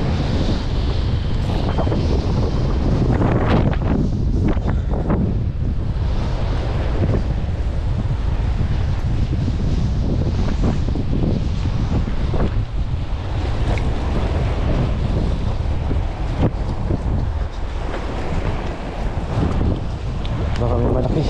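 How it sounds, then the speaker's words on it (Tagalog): Heavy wind blasts across a boat out at sea over a fish school, loud and unbroken, mixed with wave slaps and engine rumble; a voice is faintly present beneath the roar. "Malakas yung hangin."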